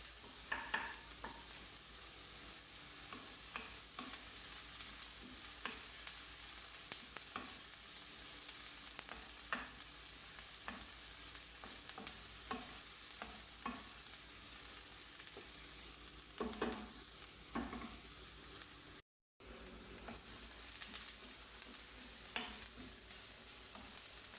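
Garlic sautéing in a pan for meatballs with a creamy yellow sauce, a steady faint sizzle under repeated light clicks and scrapes of stirring, continuous with one brief dropout and no talk.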